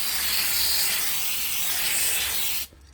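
A steady, loud hiss of a paint spray gun spraying a fine black undercoat onto a faceplate, running continuously, then cutting off abruptly near the end.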